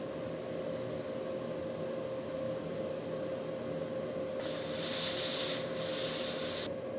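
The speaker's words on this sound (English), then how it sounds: "I then need to clean the leftover underfill that's stuck on the bottom of the CPU." Leftover underfill being scraped and cleaned off the underside of an iPhone 14 Pro Max CPU, a steady fine rubbing over a constant hum, with a brighter burst of scrubbing near the end.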